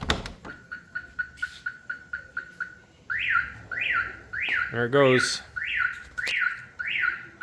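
Aftermarket car alarm on a 1967 VW Beetle, wired into the doors, going off: a run of sharp repeating chirps, then rising whooping siren sweeps and a warbling tone, loud and close, with a brief spoken remark.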